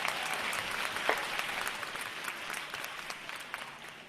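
An audience at a music showcase applauds steadily and densely for several seconds, a broad even wash of many hands clapping at moderate loudness that tails off slightly toward the end.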